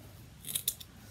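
Scissors cut apart pieces for a wine cork craft: two or three crisp snips land in quick succession, close and clear against a quiet room.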